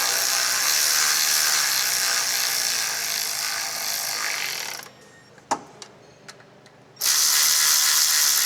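Ratchet spun rapidly to run bolts down into a plastic part on a Honda Odyssey J-series V6 engine, a steady dense clicking that drops out briefly with a few isolated clicks before resuming loud and close.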